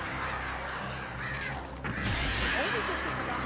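Crows cawing in the Alan Wake video game, a string of harsh calls over a dense, steady ambient game background, with a louder burst of activity midway.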